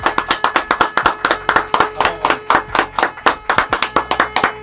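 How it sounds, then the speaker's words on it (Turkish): A small group claps in a brisk, steady rhythm for the new Tuna Catamarans Discovery 40 premium power catamaran, sharp close handclaps repeating for several seconds with no talking over them. "Arkadaşlar bir alkış alalım."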